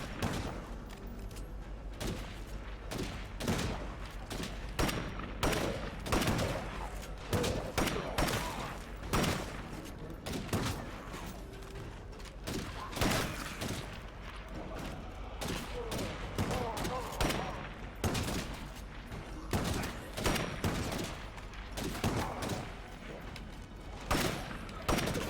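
Bursts of video game gunfire, loud and nearly continuous, with rapid volleys and single shots from a zombie shooter, under occasional speech.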